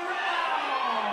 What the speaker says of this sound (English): Huge crowd in, loving their boxing here tonight